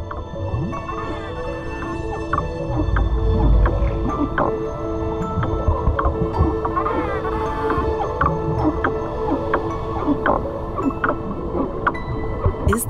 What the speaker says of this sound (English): All these sounds given out by the dolphins and other cetaceans remain a huge mystery.